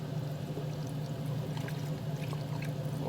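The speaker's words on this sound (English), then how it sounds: "Let's pour it into the mixture" Liquid is poured over oxtails in a crock pot, making a faint, steady, continuous pouring wash throughout with a low background hum.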